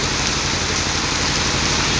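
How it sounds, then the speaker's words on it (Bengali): A downpour of heavy rain drums nearby without pause, a thick, even hiss of drops striking surfaces throughout, no one speaking. "অঝোর ধারায় বৃষ্টি হচ্ছে।"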